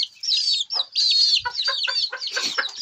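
Several hens cluck in a busy, overlapping chorus with a young rooster among them, close and fairly loud, with short bursts of calls repeating throughout.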